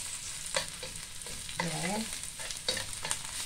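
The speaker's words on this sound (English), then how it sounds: "fry the shiitake mushroom first to make them smell nice and get the oil out of the shiitake mushroom" Shiitake mushrooms fry in oil in a pan for vegetable spring roll filling, with soft sizzling and the scrape of stirring, and a brief voice heard close by.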